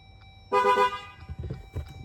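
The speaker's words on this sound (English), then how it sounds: "Beep twice." A Jeep's car horn gives two quick, loud toots back to back, sounding close and clear against quiet background noise.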